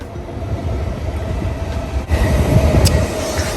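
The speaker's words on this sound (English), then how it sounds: "Train." A train passes close by, a steady loud rumble of rail cars with rolling wheel noise that swells slightly in the second half, heard alone without talk.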